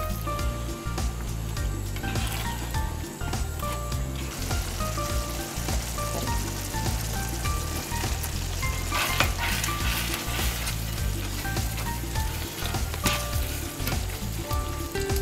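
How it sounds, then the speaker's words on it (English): Capsicum sizzling and being stirred into a prawn and chorizo jambalaya with stock, a steady loud frying crackle throughout with scraping stir sounds, no talking. "once you've added your capsicum and stirred it around a bit"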